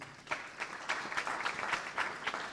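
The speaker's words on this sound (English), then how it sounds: "We must also give them a round of applause" Applause from the audience at an agricultural college diploma graduation ceremony, fairly faint and distant, with clustered bursts of clapping rising and falling across the stretch.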